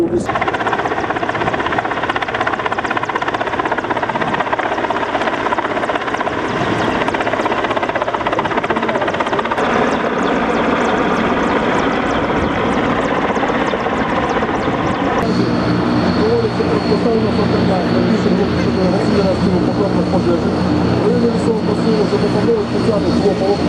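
A search and rescue helicopter's engine and rotor roar loud and continuous at close range, a dense steady drone that shifts slightly in tone partway through, with no break.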